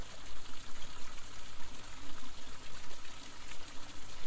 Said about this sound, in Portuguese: retornamos ao som da água corrente